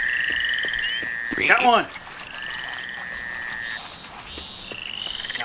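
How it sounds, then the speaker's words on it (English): Frogs croak in a Duck Dynasty video game, with steady high-pitched trilling calls running through the background while a person briefly speaks. "Frogs here, but how do I catch the frogs?"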